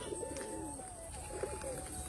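Domestic pigeons coo softly in a short burst outdoors at a village home, low throaty calls repeating under steady background noise with no speech.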